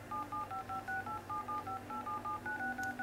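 Touch tones from a phone dial pad beep steadily in a quick run of about fourteen short evenly spaced tones that shift in pitch, clear and close over a low background hum.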